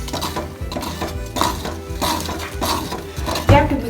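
A spoon clinks and scrapes against a metal pot while stirring sweet poha pongal (flattened rice pongal), a rhythmic series of close, bright knocks and scrapes.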